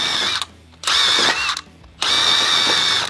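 A drill fitted with a Scotch-Brite style disc scrubs a car's brake surface around the wheel studs, a loud high whine in three bursts, roughly half a second, then a second, then a longer run, with short gaps between.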